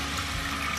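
Cold water pours into a pot with dried anchovies for a Korean broth, a brief, loud, continuous gushing splash.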